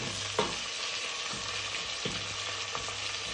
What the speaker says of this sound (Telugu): పచ్చి వాసన పోయే వరకు మనం ఫ్రై చేసుకోవాలి